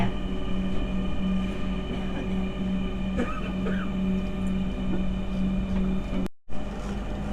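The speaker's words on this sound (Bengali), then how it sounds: "তো মেট্রো এখন পল্লবী ছেড়ে যাচ্ছে" A Dhaka metro train hums and rumbles steadily as it pulls away from Pallabi station, a constant motor drone with rail noise and a brief dropout near the end.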